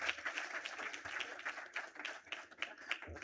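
Audience applause greeting the keynote speaker at the Phenomenal Women Awards Conference, a steady wash of many hands clapping that holds through the whole stretch at moderate loudness with no voices over it.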